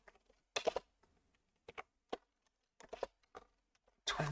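Typing code on a computer keyboard, close and quiet, in short irregular clusters of key clicks separated by pauses, ending with a denser burst.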